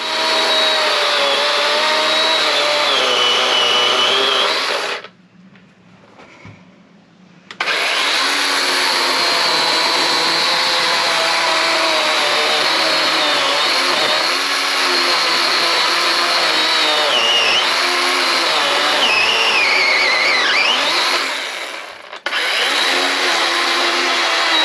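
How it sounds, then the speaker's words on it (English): A chainsaw roars loudly and steadily while cutting into a pine log, with a brief drop in engine noise midway and another short dip near the end. "think I hit it with the chainsaw"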